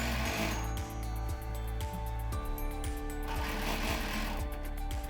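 A sewing machine quilts a circle guided by a multi-tool quilting template, running in a fast steady needle rhythm, loud and close with slight speed changes.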